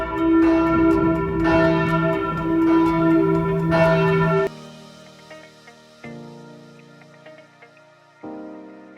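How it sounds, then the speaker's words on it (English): Church bells high in the tower of a tall church in Reykjavik, Iceland ring out in a full, overlapping peal that then thins into single resonant strikes fading away, loud and ringing with no voices. "The church features a collection of bells at its pinnacle, which chime every hour."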